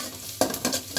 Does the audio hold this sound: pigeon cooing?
no